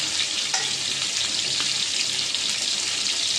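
Spice paste frying for a hilsa fish curry with ripe tomato, a continuous close bright sizzle with light stirring scrapes throughout, no one speaking.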